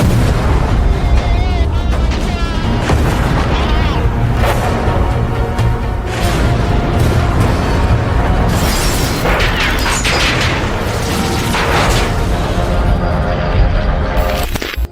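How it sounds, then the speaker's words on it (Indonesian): Rapid, heavy bursts of German anti-aircraft gunfire with booming explosions, dense and loud throughout, the firing pounding continuously in rapid succession. "mereka langsung disambut dengan tembakan senjata anti pesawat Jerman"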